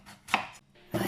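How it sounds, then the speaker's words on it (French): A knife chopping a turnip into small pieces on a board, two or three quick close cuts thudding and scraping in a short burst. "je vais couper le navet en petits morceaux"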